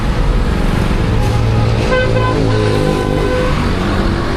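Loud, steady road traffic on a busy city street, engines rumbling close by while car horns toot and honk repeatedly through the din.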